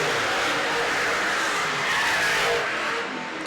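Super Saloon race cars roar around Baypark Speedway in a steady, loud wash of engine noise that swells slightly as the pack passes, then eases away.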